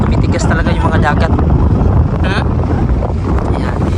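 Strong winter wind gusts buffet the microphone over a frozen sea in Greenland, a loud, steady roar filling the whole clip with someone talking intermittently through it.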